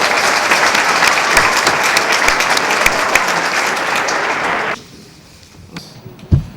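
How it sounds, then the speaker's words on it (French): Loud, dense applause from an audience thanking the speakers at a French conference day, sustained for several seconds before stopping abruptly, leaving a quiet room with a few faint knocks and a short bump. "je souhaite que nous applaudissions nos intervenants et les remercier"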